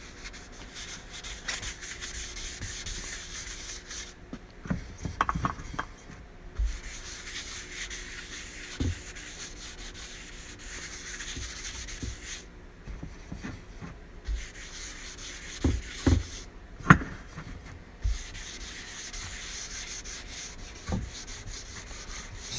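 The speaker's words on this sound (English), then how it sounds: "So let's just put a little wax on here." Wax being rubbed by hand onto a finished wood surface, a soft scratchy rubbing in short uneven strokes, faint and close, with a few sharper rubs and occasional light knocks.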